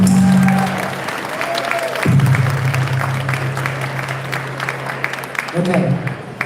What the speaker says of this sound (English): Another round of applause for Carmen Rubio.